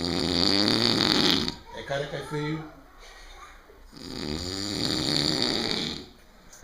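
Pig snoring close by, loud rasping breaths in long rhythmic cycles, with a voice talking over parts of it.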